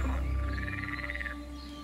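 A green pool frog croaks from a small, densely vegetated pool in mating season, its rapid pulsed call rising in a steady trill for about a second over low background hum.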